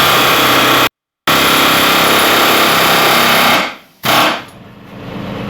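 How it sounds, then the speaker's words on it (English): A pneumatic air hammer rattles loudly and continuously against a wheel bearing hub on a 2001-2012 Ford Escape or Mazda Tribute, cutting out briefly, then resuming before tapering off. "I'm going to try to pry down and air hammer it at the same time."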